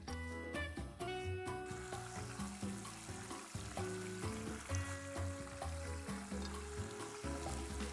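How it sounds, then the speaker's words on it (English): Tomato sauce for cannelloni bubbles and sizzles in a pan over a medium flame, a steady close cooking hiss partly covered by background music. "Let this boil for around 7-8 minutes on medium flame"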